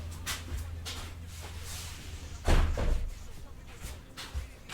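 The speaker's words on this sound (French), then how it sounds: "Je vais aller fermer la porte très vite fait" A single solid door thud near the middle, preceded by shuffling and movement, with a low steady hum throughout.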